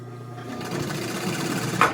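A sewing machine back-stitches upholstery for the interior of a 1955 Chevy two-door post, a close, steady mechanical whir with a rapid needle rhythm running throughout.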